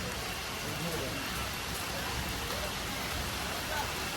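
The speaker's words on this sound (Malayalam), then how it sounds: "ഗൈസ് നല്ല മഴയാണ് ഗൈസ്." Heavy rain pours down steadily at a resort, a dense, loud, unbroken wash of drops close by with no break in intensity.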